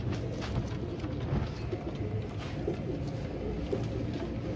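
A steady low murmur of several pigeons cooing together, continuous and close, with light background noise and no voices.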